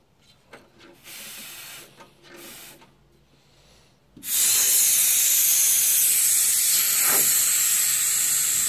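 A loud, sustained hiss of air from the brakes of an International S2500 truck bursts in after a few quiet seconds of small knocks and clicks, then holds steady at full strength until the end.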